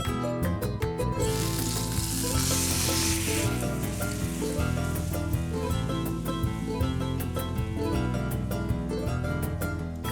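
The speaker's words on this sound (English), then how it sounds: "Oh, you can still hear it sizzling." Steady, loud sizzling of chicken frying in hot oil, with music playing over it throughout.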